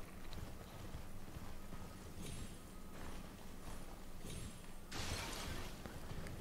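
Horse hooves clip-clop at a steady galloping rhythm in the video game Elden Ring, moderately loud and close, with brief whooshing bursts of in-game effects layered over the hoofbeats.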